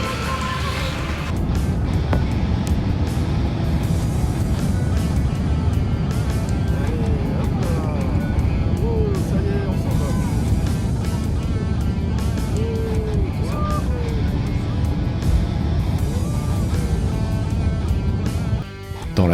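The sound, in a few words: airplane cabin interior noise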